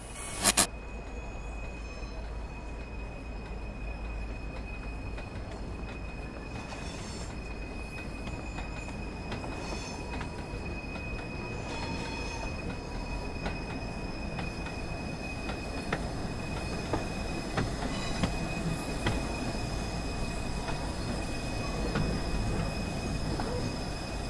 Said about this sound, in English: Stand on the platform and wait for your train to arrive.